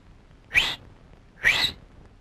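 Two short rising whistles from a person, evenly spaced about a second apart, clear and close against a quiet background, set in a Tamil comedy scene.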